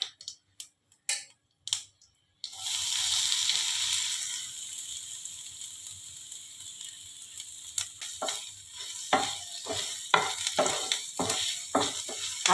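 Grated coconut hits hot oil already holding black cumin, whole cumin and a dried red chilli, setting off a steady soft sizzle after a few clatters, then later sharp scraping stirs tick through the frying.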